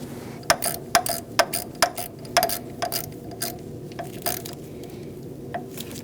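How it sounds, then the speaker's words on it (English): A bolt is threaded by hand into an aluminum engine head on a 2016-2019 Chevrolet Cruze 1.4L, producing a run of small, close metallic clicks that slow and thin out over several seconds. "You are going into aluminum, so get it started by hand."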